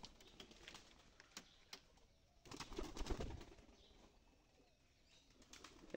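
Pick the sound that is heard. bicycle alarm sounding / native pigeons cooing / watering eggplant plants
native pigeons cooing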